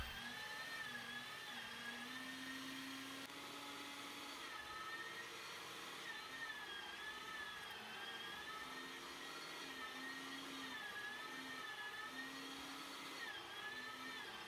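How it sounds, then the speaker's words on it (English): A meat grinder works through pork, beef and pork fat for homemade hot dogs, giving a steady, loud motor whine and whir that holds without pause from start to end. "Now it's time for the first grind."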